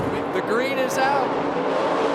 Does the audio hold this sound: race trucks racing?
yes